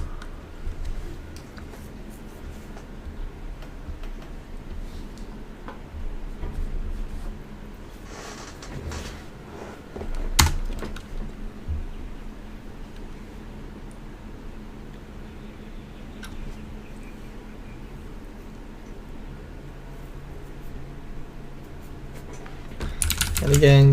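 Commands typed on a computer keyboard during a WiFi penetration testing session, a steady run of soft keystroke clicks at close range with a sharp tap near the middle and a brief louder burst at the end.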